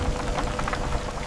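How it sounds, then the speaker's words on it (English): A steady hiss of rain falling on surfaces, dense and continuous, with no voices present. "Rain is starting."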